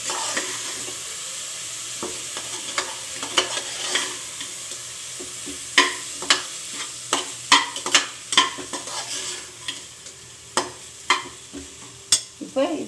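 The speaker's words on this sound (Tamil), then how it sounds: "இதை போட்டு கொஞ்சம் கிளறி விட்டுக்கோங்க." Soaked basmati rice being stirred in a hot pan for jeera rice: a soft sizzle under repeated scraping strokes and sharp clicks of a spoon against the pan, close and irregular.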